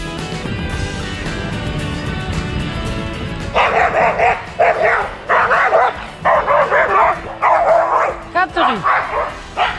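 A dog barks at other dogs in sharp, repeated bursts, loud and close, after several seconds of steady background noise with some talking.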